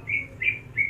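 Green leafbird (cucak hijau) kept at home calling in three short, bright chirps at an even pace, close and clear above a low steady background hum.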